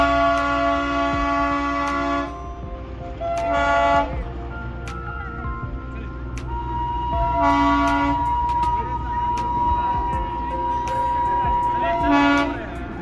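The Darjeeling toy train sounds repeated long horn toots as it circles Batasia Loop, three sustained blasts spaced several seconds apart over steady engine rumble, with people talking nearby.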